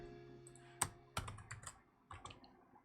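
Typing on a computer keyboard while coding in C#: a handful of sharp, irregular key clicks in short bursts, close and fairly quiet, with no voices.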